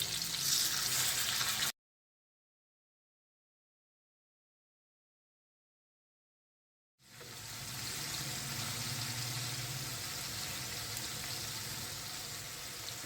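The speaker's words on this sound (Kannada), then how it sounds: "ಎಣ್ಣೆ ಬಿಸಿ ಆದಮೇಲೆ ಒಂದೊಂದೇ ಮೀನು ಹಾಕ್ಕೊಳ್ಳೋಣ" Fish fry in hot oil with a loud, steady sizzle that cuts out briefly and then resumes just as strong.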